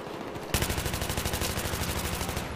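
A machine gun in the video game Battlefield 3 fires one sustained automatic burst, a rapid even rattle of loud close shots that runs for about two seconds after a short quiet lead-in, with no voices.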